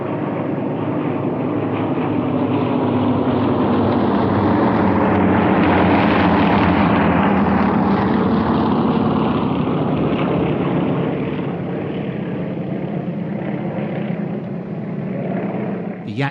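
Yak-52 and Yak-54 aerobatic propeller planes fly together at an air show, their engines droning in a rising and falling pass that swells mid-clip and then recedes. A voice talks over the sound.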